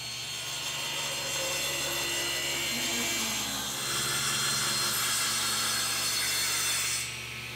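Table saw with its blade tilted to 6 degrees and the fence at half an inch, ripping angled wood molding. The motor gives a loud, continuous whine and roar that holds steady for about seven seconds, then drops away.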